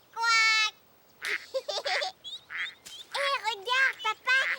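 A voice imitates a duck with a long nasal quack, then more quacking sounds follow, mixed with lively speech-like vocalizing in a quiet indoor setting.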